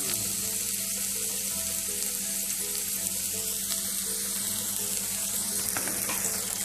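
Chickpeas frying with turmeric and chili powder in a pan for an evening snack, a continuous soft sizzle with steady hiss and faint stirring, close and even throughout, no speech.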